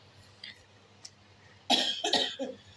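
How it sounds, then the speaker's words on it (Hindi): A woman coughs several times in a quick burst, close and fairly loud, after a few faint throat sounds in a quiet room. "अब मैं जैसे खाँस रही हूँ, ये खाँसी उठ रही है ना"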